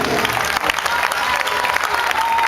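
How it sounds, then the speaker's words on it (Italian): Audience applause for a musician at a summer live event in Cagliari, dense steady clapping from a crowd, close and loud. "un applauso per cortesia"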